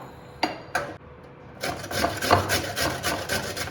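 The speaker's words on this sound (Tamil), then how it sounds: "காலிஃப்ளவரை இந்த மாதிரி துருவி இருக்கும் இல்லையா, அதில் துருவிக்கலாம்." Cauliflower florets grated by hand on a grater in a home kitchen while making cauliflower paratha: rough rasping strokes, a few separate scrapes at first, then steady repeated grating up close.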